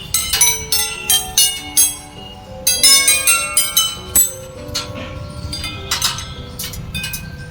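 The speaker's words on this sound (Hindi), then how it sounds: "और ये है संगीतमय पाइप, म्यूजिकल पाइप्स।" Hollow metal musical pipes struck in quick runs, producing ringing, bell-like chimes with bright, clear tones, fast clusters then scattered lighter taps.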